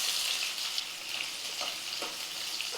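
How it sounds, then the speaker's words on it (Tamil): Onions sizzle in hot oil for a Tamil muttai and meen kulambu lunch, a steady close frying hiss with faint crackles and no voice over it. "இந்த எண்ணெயில் வெங்காயத்தை சேர்த்துக்கலாம்"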